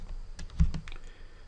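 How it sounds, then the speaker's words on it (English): Keys clacking on a computer keyboard while a tag name is entered in PLC controller software, a short quick burst of a few clicks near the middle, close and fairly quiet, with no talking. "type in IN for inputs, and hit enter"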